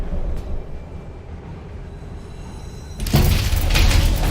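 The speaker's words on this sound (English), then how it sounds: "Train's slowing down." A train rolls along in Call of Duty: Black Ops Cold War with a low, steady rumble, then a sudden louder surge of rattling rail noise near the end, and no voices.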